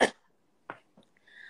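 A few short, sharp coughs or sneeze-like bursts, close by, separated by brief pauses, ending with a faint high whine.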